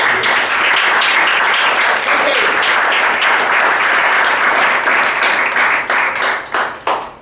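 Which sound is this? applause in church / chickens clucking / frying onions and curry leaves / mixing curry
applause in church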